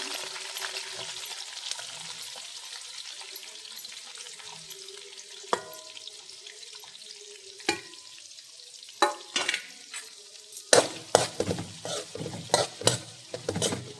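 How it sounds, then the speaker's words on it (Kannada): Curry leaves, green chillies and onions go into a hot pan for vermicelli upma and frying begins, a steady sizzle under scattered louder clatters and scrapes of a spoon against the pan, close by. "ಈಗ ಕರಿಬೇವು ಹಾಕ್ತೀನಿ, ಮೆಣಸಿನ್ಕಾಯಿ ಮತ್ತು ಉಳ್ಳಾಗಡ್ಡೆ ಎರಡು ಹಾಕ್ತೀನಿ."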